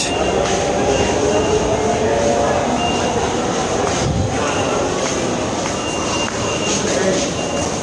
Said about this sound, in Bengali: আমরা এখন মেট্রোতে উঠি